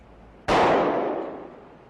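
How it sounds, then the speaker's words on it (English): A single sharp gunshot from a .40 caliber pistol firing a jacketed hollow point into ballistic gelatin, a loud abrupt crack followed by a decaying ringing tail, nearby, with no talking. "By shooting this jacketed hollow point bullet into a block of ballistic gelatin, we can show how the bullet expands"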